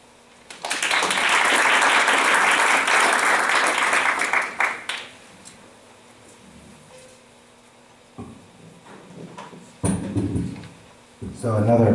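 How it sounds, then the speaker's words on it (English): An audience applauds at a public school board of education meeting in Verona, New Jersey, a dense burst of clapping lasting about four seconds before fading into room murmur, with speech and a brief rustle later. "So another round of applause for FM Browners."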